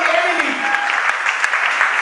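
A church congregation applauds with loud, continuous clapping, and faint voices blend into the crowd noise beneath it.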